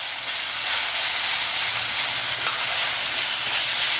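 Chicken sautés with garlic ginger paste in a pan for a Rajasthani dry chicken bharta, giving an even, dense sizzle that runs close and unbroken with no voices.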